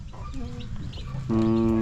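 Backyard chickens cluck in short, close bursts, ending in a louder sustained squawk, over steady outdoor background noise.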